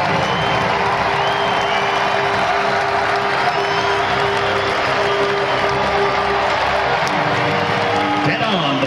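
A stadium crowd at a college football game applauds and cheers for skydivers, a broad, sustained roar of clapping and whoops with an announcer's voice carrying over it.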